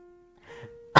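A single sharp cough bursts out at the end, loud and close, after a moment of quiet breathy sound.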